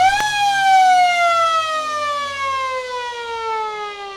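A loud end-of-quarter siren sounds at a Riverina Australian football match between the Lions and Eagles, a single sustained electronic tone that starts abruptly, holds, and slowly falls in pitch as it fades.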